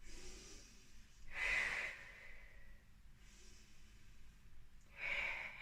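Deep breathing during a Pilates exercise: two slow, fairly loud breath bursts roughly four seconds apart stand out from a quiet, hissy room, with softer airflow in between and no talking.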